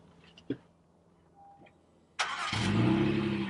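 A 2017 Honda Ridgeline pickup truck engine cranks and turns over with a sudden loud roar, then settles into a steady, close, rumbling idle after a few faint clicks.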